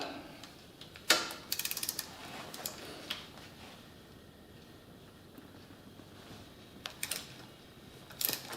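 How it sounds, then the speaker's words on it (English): Ratchet with an offset crow's foot wrench turning a bolt on a Ford 8N tractor, beneath conduit: a few sharp metallic clicks near the start, a quiet stretch, then more clicks near the end. "I'm going to have to use this offset crow's foot to be able to get at it"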